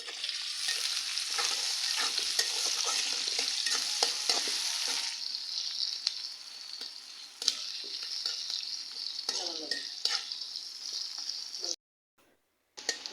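Chopped onions and green chillies frying in a wok, a steady bright sizzle with stirring scrapes and occasional clanks, dropping out briefly near the end.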